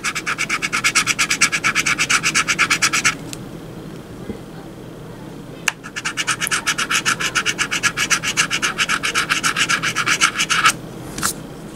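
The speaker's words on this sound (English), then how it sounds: "So I'm going to scratch this lucky mark." A coin scratches rapidly back and forth across a One Piece scratch lottery card in rhythmic rasping strokes, close and loud, with a pause midway before the scratching resumes.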